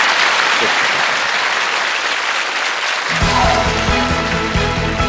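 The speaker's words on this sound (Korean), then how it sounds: "박수 부탁드립니다." Loud, steady applause from the audience at a Korean lecture show follows a talk, and a music cue enters about two thirds of the way through beneath the clapping.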